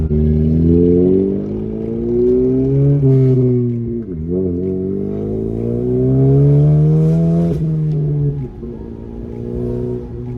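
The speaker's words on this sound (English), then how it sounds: "The turbo likes to spool up real fast because it's such a small turbo" A modified 2019 Honda Civic Sport with a small turbo accelerates hard, its engine droning loud and close as the pitch climbs, dips briefly at a shift, then rises again with the turbo spooling up.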